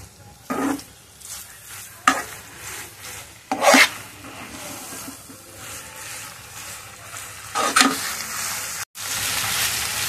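Noodles being mixed and fried in a pan, several sharp scraping strokes of a utensil against the metal over a steady sizzle, close and intermittent, with a brief cut near the end.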